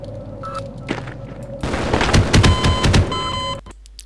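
An automated sentry gun in the video game Half-Life fires one loud, close burst of rapid shots lasting about two seconds, then cuts off; no one speaks.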